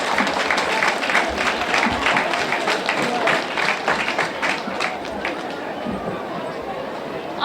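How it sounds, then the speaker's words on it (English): Dense, steady applause from a crowd, loud and continuous throughout, with some voices mixed in. "Let's have a round of applause for them."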